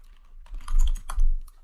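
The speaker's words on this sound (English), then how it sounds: "Let's say we type something" Typing on a computer keyboard, a quick close cluster of clicking keystrokes with brief thumps, heard alone without speech.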